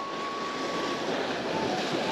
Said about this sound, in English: There's some waves crashing here.